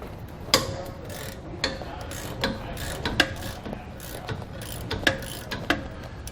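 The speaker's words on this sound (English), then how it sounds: "We're going to remove those nuts using a 22mm socket." A ratchet with a 22mm socket loosens U-bolt nuts on a leaf spring suspension, giving repeated sharp clicking strokes at an uneven pace, close up and with no talk.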